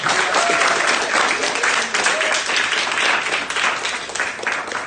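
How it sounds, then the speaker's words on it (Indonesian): Sustained applause from an audience of students in a classroom, dense steady clapping filling the whole stretch at an even level, with faint voices mixed in. "Beri aplaus pada mereka."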